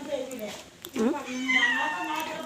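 Domestic cats meow, with one clear rising-and-falling meow around the middle and fainter cat sounds nearby, under a person talking.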